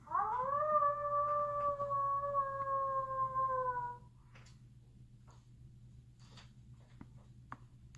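A human voice imitating a wolf howl for Halloween, one long rising then sustained tonal wail lasting about four seconds, followed by a quiet room with faint clicks and a low hum.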